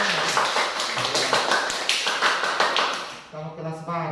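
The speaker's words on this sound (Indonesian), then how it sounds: "Tepuk tangan dulu. Kita lebih semangat." A fifth-grade class claps hands together in a quick, rhythmic burst of close, sharp claps, ending as a teacher's voice takes over.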